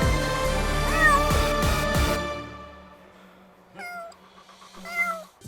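A cat inside a hospital meows several times, with a loud rising meow early on followed by two shorter, fainter meows after a pause, close by and without talk.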